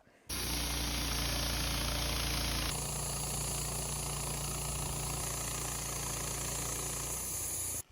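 A sawmill making a corrective cut through a Douglas fir log, a loud steady engine and blade drone running unbroken for several seconds, its tone shifting partway through the cut, with no talk over it.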